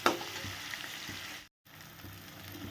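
Masala and potatoes frying in oil for a fish curry give a close, steady sizzle with soft stirring, broken by a brief silent gap midway before the hiss resumes.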